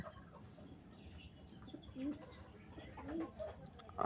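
A breeding pair of cockatiels calls with faint, scattered chirps and squawks amid a low background hum, rising to a louder call at the end.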